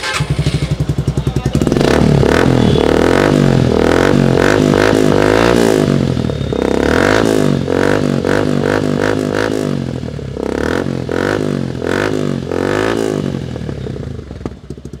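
Suzuki Gixxer motorcycle fitted with an Akrapovic exhaust and dB killer revs up close, loud and throaty, with repeated rising and falling throttle blips over a rumbling idle and some mechanical clatter.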